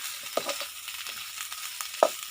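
Sizzling in a frying pan with a couple of sharp scrapes and clinks as potatoes are stirred into the fried mixture, steady background hiss throughout.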